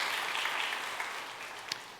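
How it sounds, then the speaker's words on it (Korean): Brief applause from a church congregation welcoming visitors during a Sunday service, a soft, even patter of many hands that slowly tapers off, with one sharper clap near the end. "잠깐 자리에 일어나실 때 우리 박수로 환영하며 축복하겠습니다."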